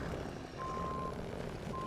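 A truck in a video game backs up, its reversing alarm sounding steady electronic beeps, one long tone and then another, over a continuous low engine rumble.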